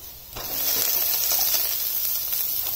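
Tomatoes go into browned onions frying in a pan for a spicy dry potato dish, setting off a loud, steady hiss and sizzle that swells up after a brief quiet start and holds close and continuous.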